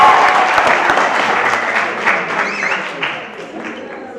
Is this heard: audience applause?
yes